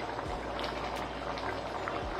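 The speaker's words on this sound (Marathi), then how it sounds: "आता हे आपल्याला छान असं उकळू द्यायचं." Rajma curry seasoned with crushed kasuri methi, coriander and salt boils in a pot, giving off a continuous, soft bubbling simmer that is heard alone at low volume.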